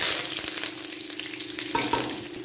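Mustard seeds sizzle and crackle in hot oil, making a close, steady frying hiss with quick popping and stirring scrapes throughout.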